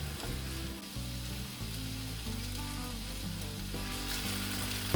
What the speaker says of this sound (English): as long as you can hear the sizzling, it's not ready